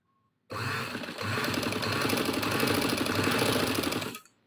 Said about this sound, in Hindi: तो यहाँ से पहले हम नेफे को थोड़ा मज़ीद स्टिच कर लेते हैं।